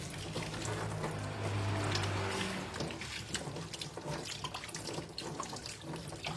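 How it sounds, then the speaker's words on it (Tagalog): Tap water runs steadily into a kitchen sink while dishes are washed, a continuous near splash with small clinks and drips over a low background hum. "I'm washing the dishes."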